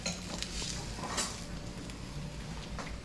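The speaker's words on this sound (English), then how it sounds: "And now we stir this all up and let it cook." Prawns being stirred in a frying pan, a steady close scraping and shuffling with soft sizzle and occasional light clinks, continuous throughout with no voices.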